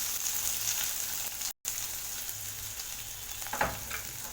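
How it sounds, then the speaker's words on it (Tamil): A large chopped onion sizzles steadily in hot oil with fennel seeds for potato masala bonda, a continuous close frying hiss with a momentary dropout and a few louder crackles near the end. "இதெல்லாம் பொரிஞ்சதுமே நான் கட் பண்ணி வச்சுருக்கிற ஒரு பெரிய வெங்காயத்தை சேர்த்துக்கிறேன்"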